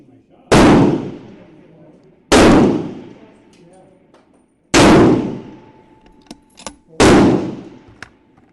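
Rifle shots ring out at a 600-yard F Class range: four loud, sharp reports spaced a couple of seconds apart, each with a long decaying tail, and faint clicks and handling noises between them.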